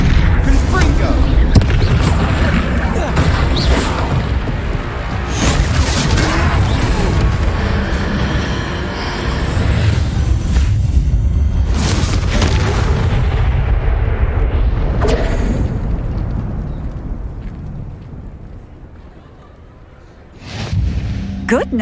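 Booming fiery Confringo blasting-spell explosions roll out in Hogwarts Legacy amid a troll battle, continuous heavy crashes and rumbles with a character's voice over the din, fading before one last burst.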